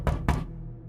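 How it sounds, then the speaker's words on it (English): Two sharp, close knocks on a door in quick succession, followed by quiet. "Undeterred, she knocked again"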